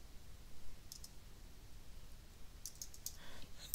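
Typing on a computer keyboard while entering a domain name into a hosting app, heard as a few faint, scattered key clicks in short bursts over quiet room noise.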